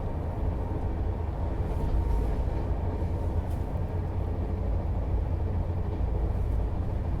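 A train rolls past at a railway crossing in Bihar, with steady, loud low rumble and wheel noise throughout, close by and continuous with no talk.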